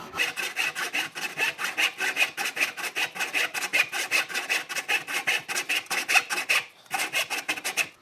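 A hand saw cutting a wood joint on the 45 rule, with rapid, regular rasping strokes one after another, close and fairly loud, and a brief pause before the sawing resumes.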